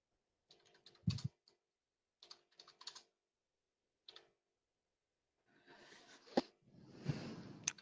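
Typing on a computer keyboard in short, sparse bursts of clicking keys separated by pauses, close and fairly quiet, with a longer, denser flurry of keystrokes near the end and no speech.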